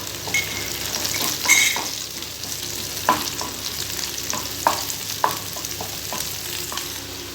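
Onions sautéing in a pan for a green field bean masala, a constant close sizzle with scattered scraping stirs and light clicks of a spoon against the pan, no speech.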